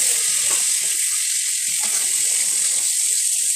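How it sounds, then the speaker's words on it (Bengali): Steady, dense sizzling of pointed gourd frying in hot oil, a continuous crackling hiss with no talking over it. "ততক্ষণ আমার এদিকে পটলটা ভাজা হতে থাক।"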